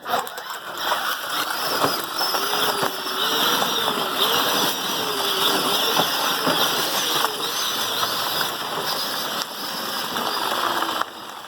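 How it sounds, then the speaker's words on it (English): An electric salt spreader built from a lawn broadcaster runs on a Powerwheels 4x4 plow truck: a continuous whirring motor whine with a wavering pitch and rattling granules, close and fairly loud, then stopping near the end. "it is an electric salt spreader. Give it some juice, son."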